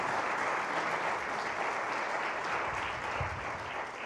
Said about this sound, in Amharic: አንድ ጊዜ ሞቅ ያለ ጭብጨባ።